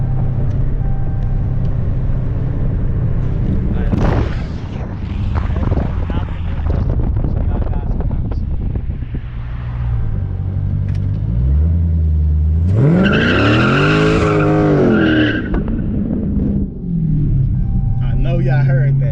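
A 2019 Dodge Challenger ScatPack with a new tune accelerating hard through a right-hand turn, its engine roaring and rising in pitch through the gears, loud and close from inside the car, with someone talking over it.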